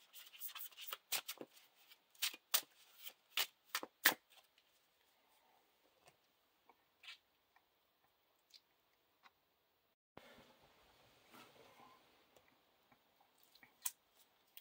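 Lord of the Rings LCG cards are handled quietly on a table, first a quick run of crisp snapping flicks, then sparse clicks and a short soft riffle.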